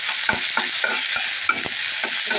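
Onion frying in fresh pure mustard oil for a shing fish curry, a bright close sizzle broken by quick regular stirring scrapes and clacks, alone without voices.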